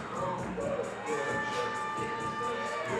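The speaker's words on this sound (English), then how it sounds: "as the crowd is waiting in anticipation for the decision, the verdict, so to speak, from the judge here tonight" A fight-night crowd at a mixed martial arts event murmurs and calls out while waiting for the judges' decision, a dense steady hubbub of many voices with scattered shouts.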